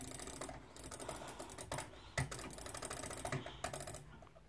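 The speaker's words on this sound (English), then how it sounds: "I don't know where those clicking sounds are coming from." Rapid clicking in a Minecraft session, sounding like fast keyboard typing in bursts, fairly faint and close, with no voices.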